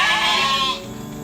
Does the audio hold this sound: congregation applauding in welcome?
no